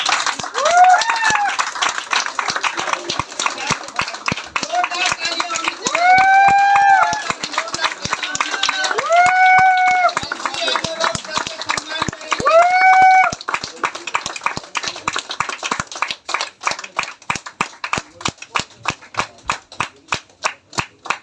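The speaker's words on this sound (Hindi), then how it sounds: "आज सर का सम्मान करने के लिए आपकी जोरदार तालियों के साथ" An audience claps loudly to honour a speaker at a business leadership event in Ghatkopar, with sharp rhythmic claps running throughout under a speaker's voice, which rises in drawn-out calls over the clapping before thinning into sparse claps.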